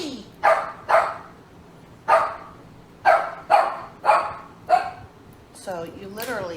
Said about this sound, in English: Move so that he's not barking at you.